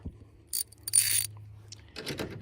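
A ratchet wrench tightens bolts on a slide-in camper bracket on a 2017+ Ford Super Duty truck. It sounds as a few short, close bursts of quick clicking with quiet pauses between them.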